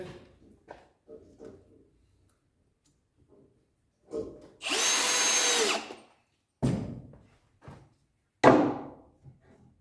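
Power drill driving screws through metal plates into a solid oak table top, a sustained whirring run followed by short bursts and clunks, close and loud, with quiet handling noises between.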